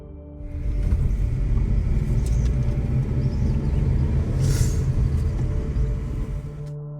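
An oncoming government bus on a forest road near Sathyamangalam, heard as a heavy, steady low engine rumble that swells in and holds for several seconds before easing.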